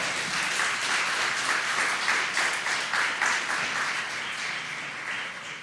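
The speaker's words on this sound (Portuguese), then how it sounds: "Você pode aplaudir o nome do Senhor?" A church congregation applauds during a sermon, a dense, steady wash of many hands clapping that stays loud throughout and eases slightly toward the end.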